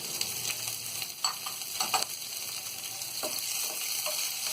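Green chillies crackle and sizzle in hot oil, a soft continuous frying hiss with a few sharper pops and stirring sounds.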